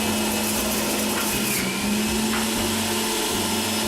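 A Breville Juice Fountain Elite juicer grinds carrots and radish, its motor whining steadily with a constant hum, and the pitch dips briefly as produce is pushed through.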